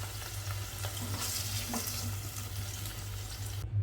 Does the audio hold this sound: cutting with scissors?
no